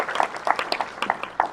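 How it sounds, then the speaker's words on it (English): Brief applause from a government forum audience in Oregon, a short burst of claps with a few sharper hand strikes, moderately close and fading quickly, no speech. "Let's give the team a round of applause."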